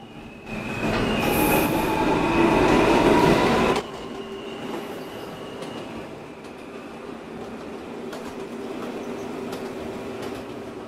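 An R160A subway car on the E line runs through a tunnel toward its terminal, wheels squealing loudly for a few seconds before the noise drops to a steadier, quieter rumble and hum of the moving train.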